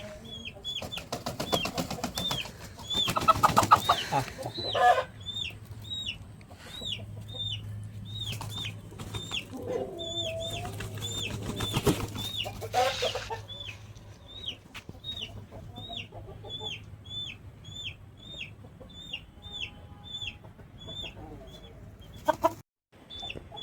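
Chickens cluck in a steady stream of short repeated calls around a gala rooster being offered for sale. The clucking is close and continuous, with a few louder flurries of activity and no one talking.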